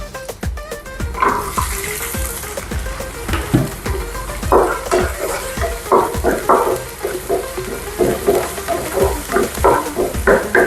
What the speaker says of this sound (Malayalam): നന്നായിട്ടൊന്ന് വഴറ്റുക